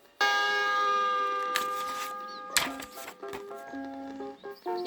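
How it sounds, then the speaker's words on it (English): A bright bell-like chime rings once on a 1979 Snoopy and the Red Baron book-on-record, a clear sustained tone that slowly fades before other softer tones follow. "when you hear the chime"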